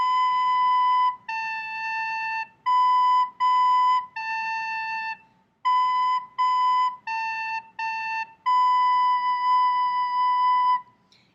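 Solo recorder plays a simple practice song, a series of clear, bright whistling notes in short phrases separated by brief pauses, close and alone.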